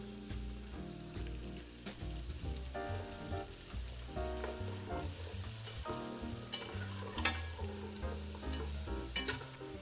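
Vegetables cook in bacon fat until translucent, a quiet crackling sizzle with stirring, heard beneath music that plays throughout.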